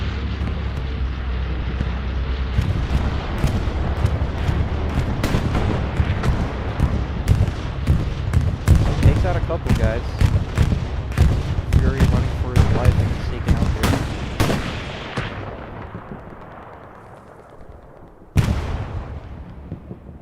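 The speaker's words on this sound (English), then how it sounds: "Bombing run comes in." Bombing run in a Carentan night match of a multiplayer war video game, with a dense, rapid string of heavy booming explosions over roughly fifteen seconds that fades away before one last loud blast.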